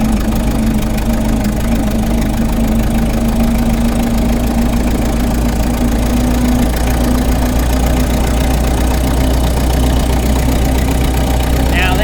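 A 1927 Ford Model T engine runs continuously in first gear with a loud, rough, steady chugging drone, close up, throughout the whole stretch.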